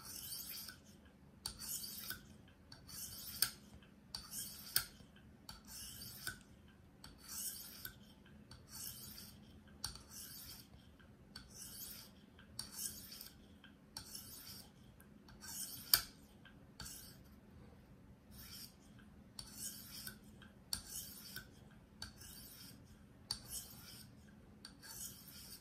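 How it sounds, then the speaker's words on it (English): Kitchen knife drawn across a stone on a KME guided sharpener, a steady run of about eighteen evenly spaced rasping strokes, close and fairly quiet, with no talking. "I'll try to sharpen with my right hand so y'all can see."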